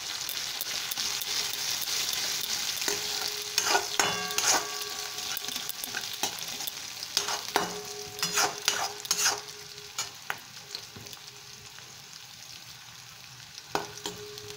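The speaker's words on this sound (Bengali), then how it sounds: "পেঁয়াজটার কালারটা একটু ট্রান্সপারেন্ট হবে সেইটুকু অবধি আমি এটা তেলে ভাজবো" Onions frying in oil with turmeric, a continuous close sizzle with frequent spatula scrapes and metallic clinks against the pan, steady throughout with no voices.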